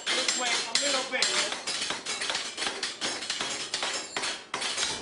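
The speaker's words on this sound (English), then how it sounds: "The hammering process really is an art, since it's the thickness and curve of the cymbal that determines its sound." A hand hammer strikes a cymbal in a Turkish cymbal workshop, shaping its curve and thickness with a fast, steady series of close metallic blows and ringing clanks, heard on its own.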